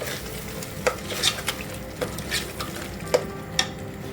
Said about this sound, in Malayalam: കുറച്ചധികം മല്ലിയിലയും നല്ലപോലെ ഒന്ന് മിക്സ് ചെയ്ത് കൊടുക്കാം